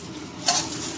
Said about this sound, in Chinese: 稍微再炒一下。